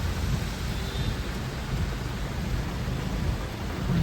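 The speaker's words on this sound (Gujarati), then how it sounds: "સામે એવું છે વરસાદ ફૂલ ચાલુ છે" Heavy monsoon rain pours down in a steady, dense hiss with low rumbling underneath, unbroken throughout and without any voices.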